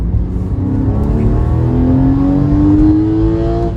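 Porsche 997 engine revving hard under acceleration, a loud rising howl that climbs steadily in pitch as the revs build, heard from inside the car.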